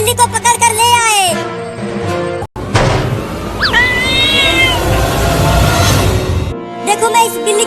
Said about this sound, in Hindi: देखो मम्मी, हम बिल्ली को पकड़ कर ले आए।